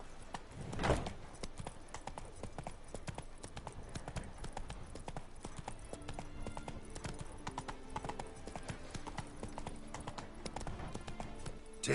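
Hooves of a horse clip-clop steadily in Witcher 3, a continuous rhythmic trot with a louder thud near the start, faint and alone without speech.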